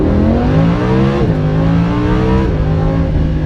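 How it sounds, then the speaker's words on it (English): A Lamborghini Aventador V10 with four-wheel drive pulls hard in first gear on twisty roads, its loud, close engine note climbing steadily with a brief dip before rising again. "That's V10 soundtrack"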